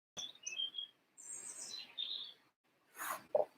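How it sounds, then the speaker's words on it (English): Faint outdoor birdsong on a quiet day, with short high chirps and twittering phrases coming in scattered bursts from a distance, separated by brief silences. "lots of bird song. Where it's being so quiet everywhere, you can really hear the birds"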